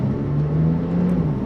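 A 2021 Porsche 911 992 Turbo S Cabriolet with rear-wheel steering idles through a slow U-turn, its engine a steady, close low hum with a faint whir, no revving and no talk.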